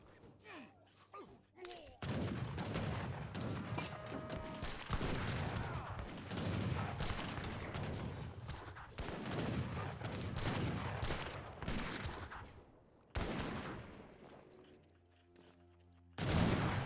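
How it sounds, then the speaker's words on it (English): Gatling gun fire in an Age of Empires 3 battle: dense, rapid bursts of game gunfire that run almost continuously, with short lulls between volleys and a final burst at the end. "And here comes the Gatling guns, gives good damage."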